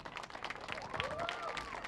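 An audience claps and cheers for a high school marching band at a friends and family preview show. Brief, busy applause comes from a crowd that sounds moderately distant, with whoops and voices mixed in.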